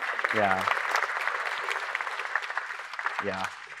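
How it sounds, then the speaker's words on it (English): An audience at a talk on coral reef genetics claps steadily and fairly loudly, with a speaker's voice briefly heard at the start and again near the end over the applause. "You don't need to clap, it's fine."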